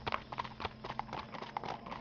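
Horse hooves clip-clop in a steady, fairly quick rhythm in the adventure video game Yesterday Origins, moderately loud against a low ambient rumble.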